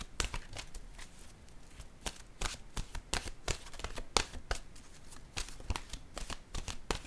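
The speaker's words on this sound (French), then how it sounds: "Je vais piger une carte de mon oracle de l'âme intuitive." Cards from an oracle deck are shuffled and drawn, producing a steady run of crisp, papery riffles and snaps up close with no voices.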